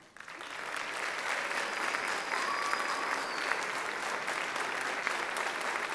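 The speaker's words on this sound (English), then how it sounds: "We can give a round of applause." Applause from the audience at a school board meeting swells quickly and holds as a steady, moderately distant patter of many hands clapping.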